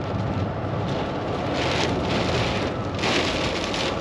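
Heavy rain pours steadily over strong gusting wind, a dense continuous roar with swells of louder downpour, heard during a storm on the road from a truck.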